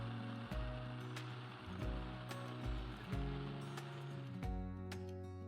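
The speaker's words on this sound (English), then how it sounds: "while the grain mill is taking care of the flour" A grain mill grinding grain into flour for sandwich bread, producing a loud continuous roaring whir with low rhythmic surges roughly every second and steady high-pitched grinding noise throughout.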